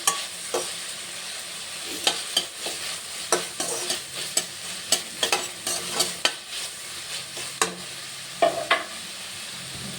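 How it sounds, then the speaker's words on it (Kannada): Tomato and garlic frying in a pan for a spinach dal, a continuous sizzle broken by regular clacking stirs of a spoon against the pan, close and clear with no talking. "ಟೊಮೊಟೊ, ಬೆಳ್ಳುಳ್ಳಿ ಚೆನ್ನಾಗಿ ಫ್ರೈ ಆಗಬೇಕು"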